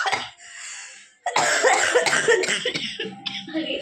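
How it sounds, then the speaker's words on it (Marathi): A few harsh coughs burst out after a short pause, close and loud, with the second stretch a rough run of coughing and throat noise. "आईस्क्रीम खाली खोकलाय लागले"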